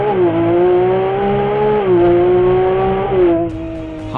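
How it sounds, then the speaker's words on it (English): Ferrari 296 GTB engine and exhaust revving up under acceleration, a loud, steady rising tone that dips briefly at gear changes, heard close with no talking. "let's try to make an acceleration and listen to the sound of the 296 GTB"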